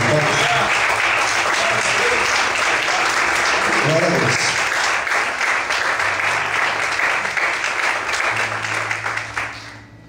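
Church congregation applauding, sustained dense clapping for about ten seconds that tapers at the end, with a voice speaking briefly over it.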